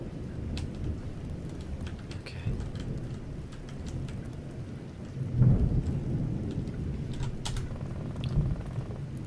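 Rain and thunder in the horror video game SORE: steady patter of rain with a low rumbling roll of thunder swelling midway, continuous and fairly soft, with no voices.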